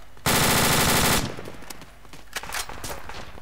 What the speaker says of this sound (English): Gizmo, you keep up the covering fire.